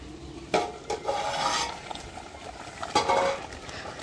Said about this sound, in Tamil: அரிசி போட்டு ஒரு கலரி கலரிட்டு நம்ம மூடி விட்டுக்கலாம்.